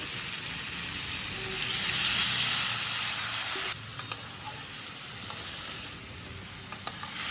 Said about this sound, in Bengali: এবার খুব সামান্য জল দেব।